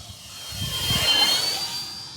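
A 1.5 m Kavan Pilatus PC-6 Porter RC model plane at full throttle makes a steady, high whining motor drone that swells briefly as it passes, with faint wind rumble underneath.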